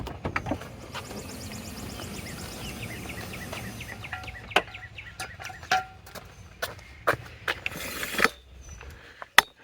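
A Chrysler Pacifica minivan's power sliding door opens, humming and whirring mechanically up close, then a series of sharp latching clicks and clunks as it finishes moving.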